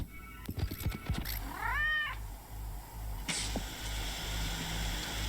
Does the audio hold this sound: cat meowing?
yes